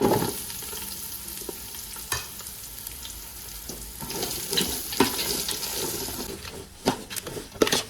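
Spices and onion frying in oil for a South Indian mutton masala, a continuous crackle with clattering stirring and scraping, louder bursts toward the end, and no voices.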